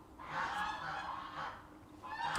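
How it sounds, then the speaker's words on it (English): A flock of geese honks repeatedly outdoors at an off-grid homestead, overlapping calls rising and falling at moderate distance without pause. "Can you hear the geese?"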